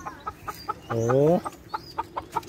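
Chickens cluck in a steady, regular rhythm close by, with one longer drawn-out squawk in the middle and a brief voice exclamation.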